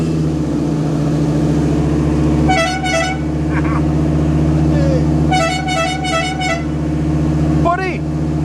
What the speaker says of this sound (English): air horns will be charging. But when I press the button, you might want to shut your ears.